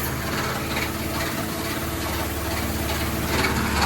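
Pull-start engine on a trash bin cleaning rig running and spinning up, a steady loud droning roar with slight rising intensity toward the end, close and alone without speech.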